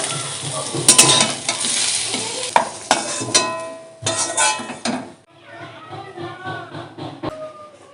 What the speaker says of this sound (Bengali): এঁচোড়গুলো লাল লাল করে ভাজা হয়ে গেছে